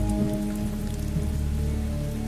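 Heavy rain pours steadily at night at 11 o'clock, a dense, continuous hiss of drops striking surfaces with a low rumbling undertone, loud and unbroken.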